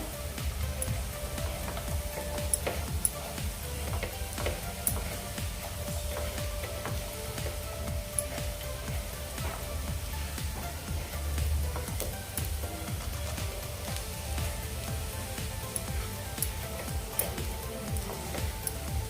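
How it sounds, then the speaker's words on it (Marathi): Peanut chutney is stir-fried uncovered in a pan with a soft, steady sizzle, and faint scraping of the spatula comes and goes throughout. "पॅनमध्ये थोडा वेळ असंच परतत राहूया"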